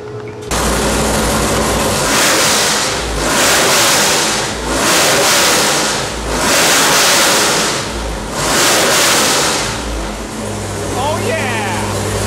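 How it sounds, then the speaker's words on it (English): A naturally aspirated 454 LSX V8 of about 710 horsepower roars and revs hard in repeated surging waves on a dyno pull, very loud and close, then drops back to a lower idle rumble. "Here's a nice little pull of this engine that you just saw right there."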